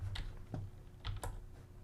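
Computer keyboard keys tapped a few times in a quick, uneven sequence, close and fairly quiet over a low background hum.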